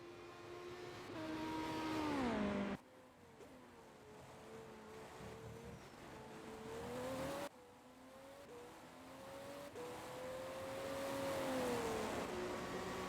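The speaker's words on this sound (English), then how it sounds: "Coming across the start finish line in this Audi R18. Up into 6th gear, right on the limit of 6th gear" An Audi R18 race car engine in a Le Mans racing video game: a high sustained whine rising through the gears, with sharp drops at two upshifts, then a long climbing pull, continuous and fairly close.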